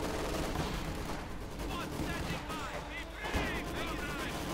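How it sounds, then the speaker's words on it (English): A grenade assault in a 2v2 real-time strategy game brings rapid bursts of small-arms and machine-gun fire, dense and continuous, with sharper cracks rising through the mix. "Got a grenade assault here."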